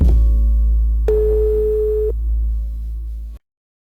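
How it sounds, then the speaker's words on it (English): A telephone dial tone hums steadily over a low drone, with a brief brighter tone in the middle, and cuts off abruptly into silence. "Silence, then a faint, slow hum of a dial tone, which fades to nothing."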